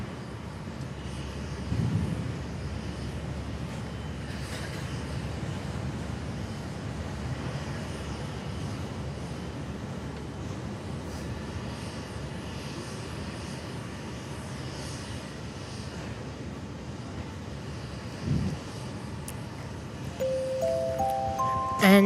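An airliner on flight 1840 from Port Hedland arrives on runway 21 at Perth Airport, its engines a steady, fairly distant rumbling roar that lasts throughout with a slight swell near the end.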